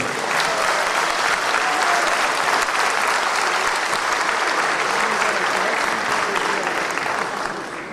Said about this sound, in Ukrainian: Давайте привітаємо їх аплодисментами.